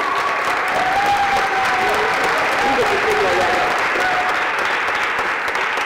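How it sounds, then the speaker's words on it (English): A crowd at a community event applauds continuously and loudly, thick even clapping with a few voices mixed into the din throughout. "give him a round of applause,"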